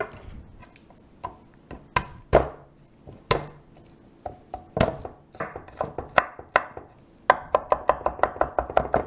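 Knife chopping garlic and vegetables on a cutting board, a run of sharp, close knocks, sparse and irregular at first, then a quick steady rhythm of rapid chops toward the end.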